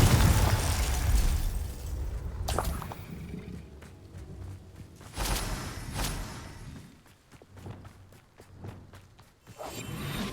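Confringo fire-spell blasts in Hogwarts Legacy, several booming explosive bursts with whooshing swells, loud at first and then spaced out, fading between hits.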